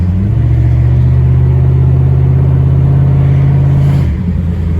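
A Jeep Grand Cherokee ZJ with a 5.2 V8, upgraded heads and cam, and a new rear O2 sensor idles steadily with a loud, deep, even rumble close by, then dips slightly near the end.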